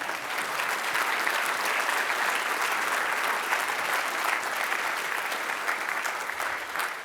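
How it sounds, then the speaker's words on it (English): A large audience at a talk claps loudly and densely after a video is shown, a continuous, full roar of applause that holds steady for several seconds. "Y'all can clap for my video."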